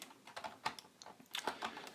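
Computer keyboard keys pressed while working in Maya 3D modeling software, a quick irregular run of soft close clicks and taps, fairly quiet, with no voice.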